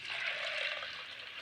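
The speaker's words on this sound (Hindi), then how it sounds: "आधा जग पानी डालेंगे।" Water pours steadily into a cooking pot for masoor dal, a continuous close splashing gush that holds evenly for the whole moment with no talking.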